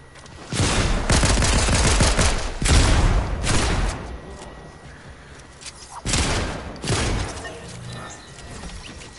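Heavy bursts of automatic gunfire in Call of Duty, several loud volleys of rapid shots and booming impacts separated by short pauses, close and forceful.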